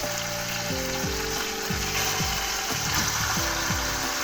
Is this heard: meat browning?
yes